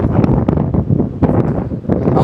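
Strong wind buffeting the microphone at Rostock beach on Germany's coast, a loud steady rumble with gusty surges and no voices.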